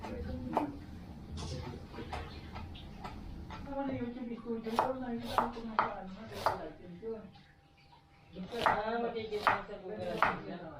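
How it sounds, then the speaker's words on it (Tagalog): A knife chops garlic, onion and ginger on a cutting board, quick rhythmic knocks in bursts with a brief pause midway, close and crisp, with some voices talking in the background. "Maggagayat tayo ng bawang, sibuyas, luya."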